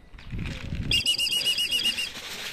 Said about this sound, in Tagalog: ayaw pang bumaba ng ibang ibon, nandun sila, nag-i-enjoy dun sa taas